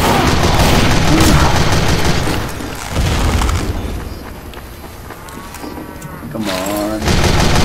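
Gunfire in Team Fortress 2 pounds out as repeated loud booms and blasts in a dense, chaotic burst, then eases to quieter game noise before more blasts return, with a voice speaking briefly over it.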